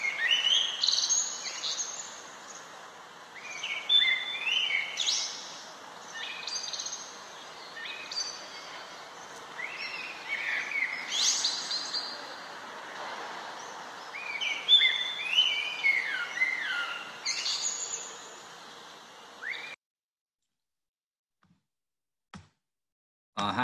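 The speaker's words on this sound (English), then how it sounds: "Blackbird is one of our best songsters. It's just superb, superbly melodic, and also got a really deep resonance to it." A male blackbird sings clear, melodic phrases in a garden, several rising and falling bursts with short pauses between them, before the song stops and near silence follows with a couple of faint clicks.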